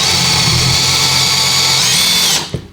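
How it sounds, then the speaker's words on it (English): A power drill spins a countersink bit into a wall panel board, a loud, close, continuous high whine that holds steady for over two seconds before spinning down and stopping abruptly. "Just use the countersink bit for that in the drill"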